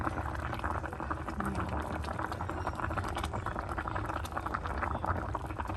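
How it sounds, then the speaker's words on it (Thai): A pot of fish simmering with turmeric, lemongrass, shrimp paste and salt for a Mon-style noodle broth, giving a continuous, close, dense bubbling boil with no speech. "แล้วก็ต้มนะคะ"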